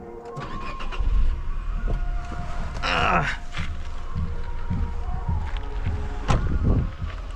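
A Nissan Magnite Turbo CVT car engine starting up outdoors on a hill at sunset, a brief cranking burst followed by a steady idle hum heard close with some wind.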